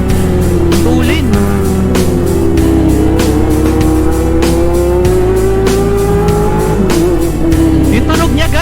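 A Honda CB400 motorcycle engine on a test ride, loud and close, holding a steady droning roar with rising and falling revs and a few gear-change dips throughout.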